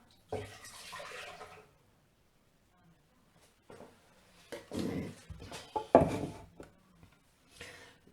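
Beetroot juice poured into a cooking pot while making quick barszcz, heard as a few separate splashing pours of liquid with quiet gaps between them, close and moderately soft.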